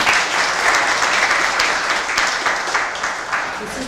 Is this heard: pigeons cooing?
no